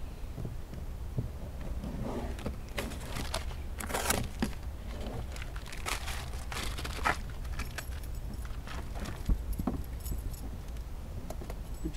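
Car keys jangle close by in a Chevy Cruze as a key is fitted into the ignition, a run of light metallic clinks and rattles with a few sharper taps, fairly quiet.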